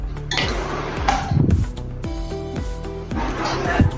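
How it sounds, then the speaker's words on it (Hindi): Metal lid set on a pot of leftover-rice batter in a home kitchen, several clanks and clinks of cookware, fairly close, repeating over a few seconds. "अभी इसको हम ढक्कन लगा के 10 मिनट रखेंगे"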